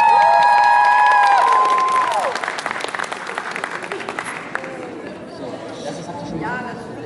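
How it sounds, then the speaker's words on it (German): A convention crowd at EpicCon 2019 bursts into applause and cheering for a Love Live dance act, many hands clapping with scattered shouts and whoops, fading into chatter; a loud voice speaks over the opening seconds. "kräftigen Applaus mit Snowberry Project"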